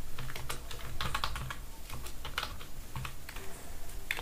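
Rapid, close clatter of keys on a computer keyboard, with irregular bursts of typing and no talking.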